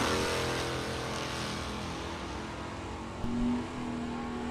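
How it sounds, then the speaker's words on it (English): A 1969 Camaro Z28 drag car launches at a Super Pro bracket race, heard as a steady distant engine roar across the track with a brief surge near the end, with no voices. "Jeff Tepper away in that beautiful 69 Camaro"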